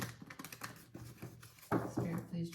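Tarot cards being shuffled in a quiet room, giving a run of soft, quick riffling clicks and taps that grow louder near the end, with faint voice in the background.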